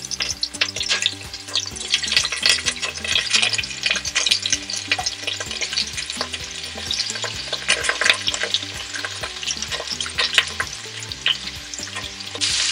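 Steady, crackling sizzle of chicken pieces and onion frying in a pan, close and continuous, with occasional stirring scrapes and a faint low hum underneath.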